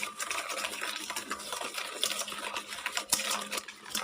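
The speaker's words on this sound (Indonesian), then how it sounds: "bahan yang ini saya aduk terlebih dahulu" Egg and sugar batter is stirred briskly in a bowl, giving a close, continuous scraping and swishing with a quick rhythm, heard alone without talk.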